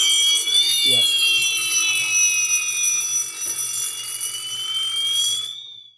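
A Hikvision conventional fire alarm evacuation sounder blares a loud, continuous high-pitched tone that sweeps slowly up and down, with faint handling clicks beneath, then cuts off abruptly at the end.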